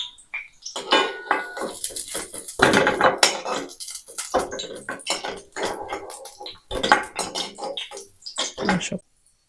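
Fried eggs lifted out of a frying pan with a metal utensil while cooking egg masala, repeated scraping and clinking of utensil against pan in irregular bursts, close, with someone speaking in between.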